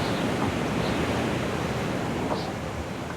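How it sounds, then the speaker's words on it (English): Big ocean waves off the Cape Verde islands between Fogo and São Vicente in a force 5 to 6 northeast wind, heard as a steady, loud broadband roar of surf and wind with no pauses. "The waves here, especially in this point,"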